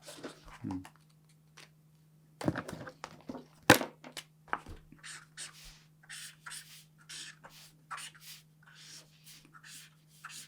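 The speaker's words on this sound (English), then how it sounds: "I'm just using this black pen from the beginning to finish." Black pen drawing on paper during a one-point perspective sketch, giving soft intermittent scratchy strokes close by, with a few louder taps and pauses between lines over a steady low hum.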